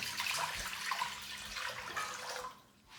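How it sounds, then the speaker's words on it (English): A couple of liters of water pour steadily into a stock pot with a continuous splashing rush that tapers off near the end. "So we're gonna start with stock, a couple of liters of water."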